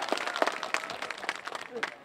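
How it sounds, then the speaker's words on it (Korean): Brief, light applause from a small audience, with talking over the clapping, at a traditional Korean tightrope-walking performance at a palace culture festival. "박수 한번 주시오."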